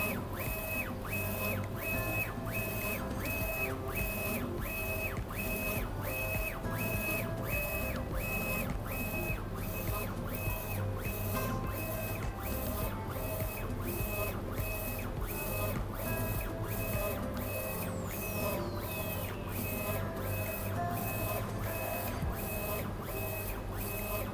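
A Mini DTG DX11 direct-to-garment printer prints a halftone, its print head shuttling back and forth in a steady, evenly spaced series of mechanical passes with a constant motor hum, loud and close with no talking.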